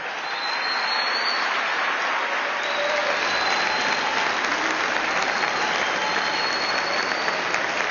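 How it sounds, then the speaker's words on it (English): CPAC audience giving a standing ovation, steady, dense applause that holds at full strength throughout, with a faint crowd murmur mixed in. "new wedge issue gets a standing ovation"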